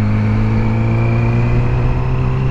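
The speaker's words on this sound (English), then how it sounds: "Clutch in, let the throttle reset, shift up." A motorcycle engine holds a steady, loud, close drone with a constant pitch through the short stretch, as the rider works the throttle and clutch to shift up a gear.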